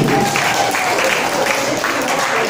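Guests at a Dayak Keninjal wedding applaud, a loud continuous wash of clapping from a crowd that fills the space, with voices faintly mixed in.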